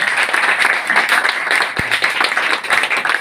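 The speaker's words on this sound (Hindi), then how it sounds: "इस गुड़िया के लिए एक बार किरण के लिए जोरदार तालियां आप बजाएं।" Applause for a young girl at a village library in Badanpur, Jind, Haryana: steady, dense clapping from a gathered crowd continues throughout, with one dull thump partway through.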